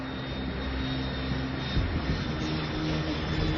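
An airplane flies overhead with a steady, loud engine drone and rushing roar that holds evenly throughout, with no voices.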